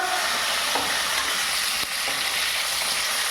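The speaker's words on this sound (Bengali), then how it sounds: "এবার মুড়ো ভাজা হবে" Big fish heads frying in hot oil in a pan, a loud, dense, continuous sizzle with a few faint clicks, heard alone.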